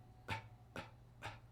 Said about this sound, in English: that's why we create this clicky sound